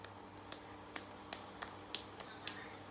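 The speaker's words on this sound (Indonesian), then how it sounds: "Tinggal ditepuk-tepuk kayak gini." Light, quick pats on skin repeat in a loose rhythm, about a dozen soft slapping taps close by in a quiet room.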